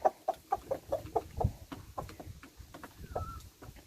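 Backyard chickens cluck in a quick run of sharp, close calls, then quieter scattered clucks and a short higher call near the end, with no talking over them.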